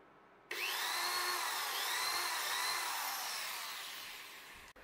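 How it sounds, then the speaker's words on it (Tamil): A power drill bores a hole through a small wooden keychain, a steady loud whine that holds for about four seconds, then tapers slightly before stopping abruptly, with no talking. "ஃபர்ஸ்ட் ஸ்டெப் வந்து நம்ம கீச்சைனுக்கு ஒரு ஹோல் வந்து ட்ரில் பண்ணிடலாம்."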